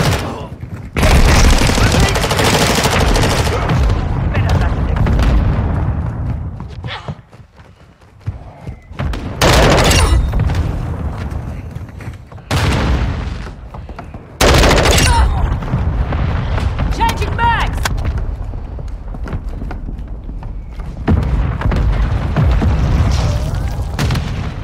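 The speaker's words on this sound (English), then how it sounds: "Hostile mortar strike near your position." Mortar strike explosions in the video game Call of Duty MWII, a series of heavy booming blasts and thuds mixed with gunfire bursts, loud and close, with a short lull between impacts and voices calling out now and then.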